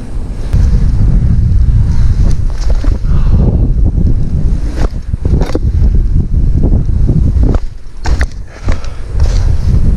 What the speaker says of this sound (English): It's really windy though.